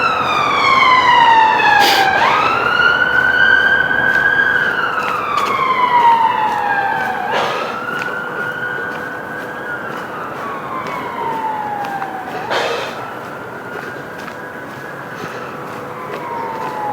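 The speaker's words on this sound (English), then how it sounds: "Can you hear the sirens?" Wailing emergency vehicle sirens rise and fall repeatedly at a moderate distance, sweeping over a steady rumble of heavy road traffic heard from the edge of a wood, with a few sharp clicks in between.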